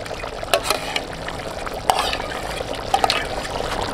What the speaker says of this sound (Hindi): अब हम कढ़ाई के अंदर डाल देंगे 400 ml क्रीम।